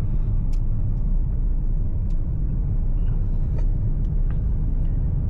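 A 2025 Toyota Wigo G CVT car runs with a steady, loud low engine and road rumble heard from inside the cabin, with faint scattered clicks and ticks over the drone.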